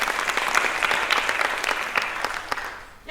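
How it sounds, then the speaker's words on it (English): Audience at a Writers Week 2016 book session gives warm, dense applause, a thick patter of many hands that holds steady for about three seconds and then fades away. "Let's give them a clap."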